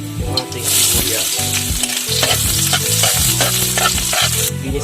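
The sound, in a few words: garlic and onion sautéing in pan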